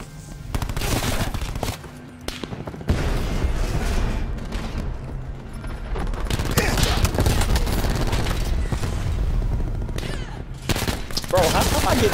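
Gunfire in Call of Duty: Black Ops 4, rapid bursts of automatic fire and sharp shots in clusters with brief pauses, loud and close, with players talking over the shooting.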